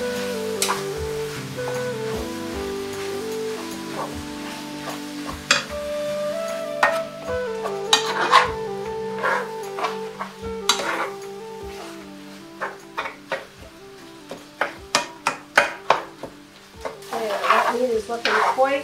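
Ground meat frying in a pan for breakfast pockets, sizzling steadily while a utensil scrapes and stirs it, with repeated sharp clinks and taps against the pan, close and fairly loud, no talking.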